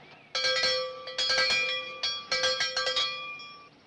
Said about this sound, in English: 2 clangs is for starting.